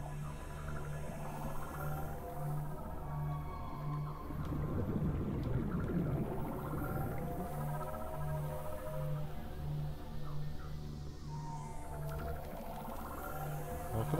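Whale-like underwater calls in the video game Subnautica, drawn-out moaning and warbling tones over a low rhythmic hum, steady and moderately loud with no speech.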